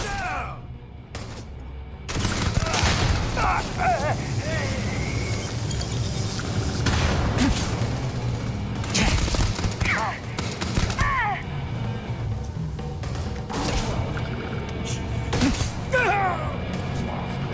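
Sci-fi gunfire erupts in Starfield in a bar shootout, with repeated loud booming shots and volleys over several seconds and a voice speaking in between.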